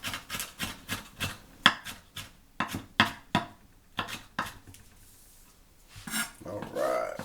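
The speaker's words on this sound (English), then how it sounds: "Cut up this red onion real nice and fine" A knife chopping a red onion finely on a cutting board, close and crisp with a quick, steady rhythm of strikes, a short pause, and then a few more cuts followed by a rustle.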